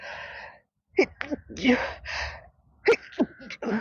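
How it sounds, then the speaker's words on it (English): A person sneezes once, close and sharp, between stretches of speech. "I'm going to sneeze."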